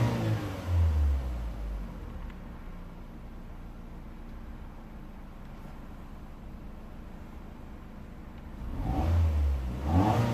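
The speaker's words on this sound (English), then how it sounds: "Let me rev it a little bit, see if we can get that to go up a little bit quicker." A Vauxhall/Opel Astra J petrol car engine revved while checking a radiator fan fault, two rises in engine speed at the start and end with a steady idle hum and fan whir between, heard up close with no talking.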